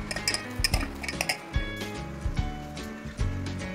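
Sliced onions being tossed in a metal bowl for pakoras, giving off irregular clinks and clatters of utensil against bowl, close and moderately loud, with no talking.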